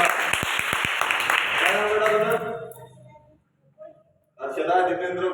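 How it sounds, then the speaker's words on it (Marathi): Crowd applause for a child at a school prize ceremony, loud and dense for about two seconds with sharp claps, dying away into near silence before talk resumes at the end. "याच्यासाठी टाळ्या वाजवा."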